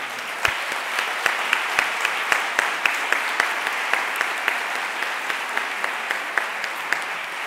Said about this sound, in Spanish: vamos a hacer un aplauso para Mario, por favor.